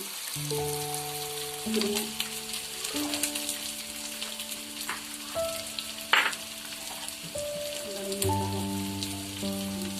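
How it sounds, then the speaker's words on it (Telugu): Chicken and green chillies fry in hot oil with a continuous crackling sizzle, while sustained musical tones play over it and an occasional utensil knock stands out. "ఇది కూడా నూనెలో వేగిస్తాము ఇలా కొంచెంసేపు వేగాలి"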